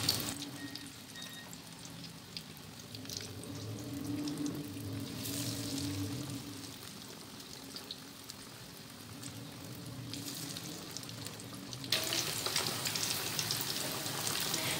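Fish fingers frying in hot oil over medium heat, giving a soft, continuous crackle and bubble that swells brighter in short stretches, faint and steady with no one talking.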